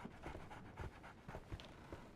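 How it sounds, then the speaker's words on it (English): Rhythmic dog panting from a dog in the Sherlock Holmes: The Awakened video game, quick breathy huffs repeating steadily and close up, with no talking over it. "So, Barnes has a dog now."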